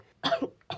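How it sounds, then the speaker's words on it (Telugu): Two to three sharp, raspy coughs from a person in a smoky place, the first a close, harsh burst with a short follow-up and then another cough starting right at the end. "ఇందాకటి నుంచి దగ్గుతూనే ఉన్నావు"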